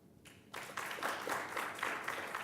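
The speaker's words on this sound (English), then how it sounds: "how about a round of applause for our panelists?" Audience applause for the panelists at a banking API security conference session, a steady dense clapping that starts abruptly and holds at full strength to the end.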